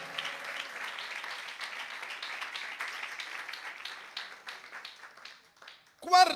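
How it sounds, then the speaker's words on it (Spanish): A church congregation applauding during a Spanish-language sermon, a steady wash of many hands clapping for several seconds that thins out and fades before a louder burst at the end. "Denle su ofrenda de palmas al Señor en esta hora."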